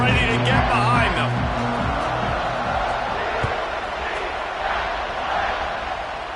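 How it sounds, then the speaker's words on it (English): A football stadium crowd at a TSU versus UCF game roars steadily before a kickoff, a broad distant wash of cheering under a commentator's voice. "this crowd now ready to get behind them"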